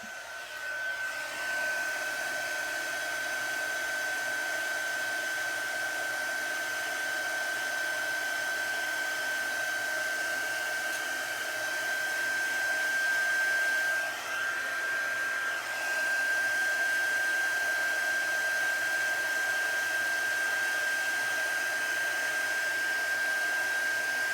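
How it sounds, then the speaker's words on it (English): An electric heat gun runs at a steady, loud whir with a constant high whine, blowing over embossing powder on a card; the drone holds alone and unbroken for the full length, with no talk. "Just waiting for my heat gun to heat up a little tiny bit."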